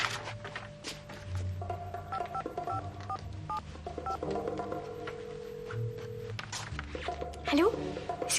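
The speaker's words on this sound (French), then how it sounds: "Le numéro de la personne que Paul veut que j'appelle est là." A telephone number is keyed in as a series of short DTMF beeps that step through different pitches, with a voice speaking alongside.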